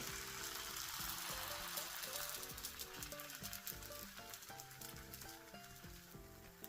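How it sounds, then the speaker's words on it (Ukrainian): A zucchini pancake sizzles in a frying pan, a steady hissing crackle with soft background music playing throughout. "Таким чином смажимо усі млинці."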